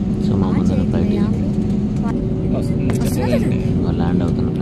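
A passenger airplane landing on a nearby runway, heard from another aircraft waiting to take off, gives a steady, loud low rumble of engine noise throughout, with people talking over it.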